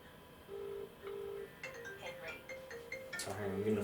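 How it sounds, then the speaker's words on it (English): A mobile phone ringtone sounds in a room, two short repeated tones followed by a brighter melodic jingle that keeps playing, fairly quiet, with a voice talking over it near the end. "I think my phone's ringing"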